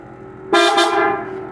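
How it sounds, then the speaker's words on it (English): A loud, sustained honk from triple electronic horns taken off another truck and mounted on a 1948 Chevy truck, starting abruptly after a brief hum and holding steady for about a second, up close. "they're pretty loud horns"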